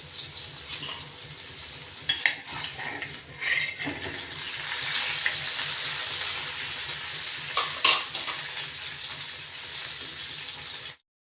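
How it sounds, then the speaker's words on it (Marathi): Pieces of surmai (kingfish) coated in home-ground masala fry in a pan, one large piece at a time, giving a steady, close hiss of sizzling oil with occasional louder pops and spatters throughout. "असं सर्व मच्छी फ्राय आपण करून घेतोय"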